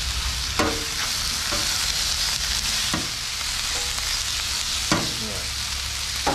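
Garlic and Wesson vegetable oil sizzle steadily on a 22-inch Blackstone griddle for hibachi-style fried rice, with a few sharp spatula scrapes and taps cutting through the constant frying hiss.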